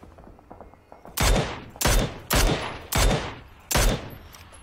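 Five loud, sharp bursts of gunfire in the video game PUBG, spaced roughly half a second apart, each with a quick decaying tail, close and punchy.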